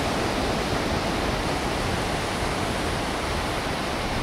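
Sea water at Ilha dos Carneiros, Pernambuco, a loud, constant broadband rush of surf with no pauses and no voices.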